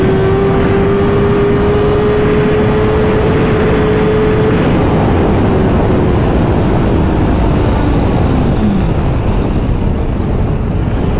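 A Honda CBR 650R motorcycle accelerates hard in second gear, its engine a loud continuous rising whine that climbs then eases off, mixed with heavy wind rush throughout.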